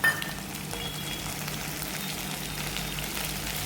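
Onions sizzle in a pan as ginger garlic paste is added, giving a soft, steady frying hiss that stays even and fairly quiet throughout, with no talking.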